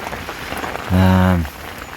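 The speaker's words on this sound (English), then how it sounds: "It's absolutely lashing it down at the moment." Steady heavy rain hisses across the whole clip on a carp fishing trip, with a brief low droning tone swelling up in the middle before fading back into the downpour.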